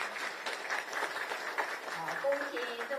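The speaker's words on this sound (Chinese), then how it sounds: "我们给他热烈鼓掌" An audience claps steadily for a political party leader at a temple event, with a voice speaking over the continuous applause.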